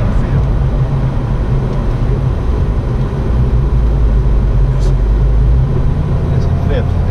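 A Corvette ZR1 engine drones loudly and continuously on a test drive, a broad low roar that holds steady and shifts slightly in pitch as the car pulls, with faint cabin noise.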